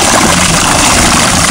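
Electric motor of a remote-controlled kayak, throttled by a hacked foot-pedal control, spinning with a steady broadband whir and hum, close and continuous for the whole moment with no talking.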